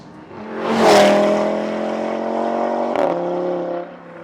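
An Audi RS3 hatchback engine revs up hard, climbing steeply then holding a loud steady drone, with a brief dip at a change of its 7-speed S-tronic gearbox before the roar resumes.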